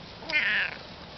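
A three-legged cat gives a single drawn-out meow, clear and close, with no talking.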